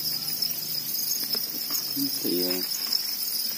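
Thai field crickets in a breeding setup chirp in a high, continuous shrill trill that runs throughout, while someone speaks briefly over it.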